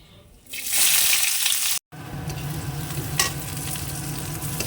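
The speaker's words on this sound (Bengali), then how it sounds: "পেঁয়াজটা ভাজা হয়ে গেছে" Onions sizzle loudly in a frying pan in a Bengali home kitchen, a bright steady hiss that briefly cuts out and then resumes with stirring.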